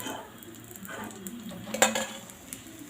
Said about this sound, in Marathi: अशा प्रकारे आपण सर्व पुऱ्या तळून घेऊ.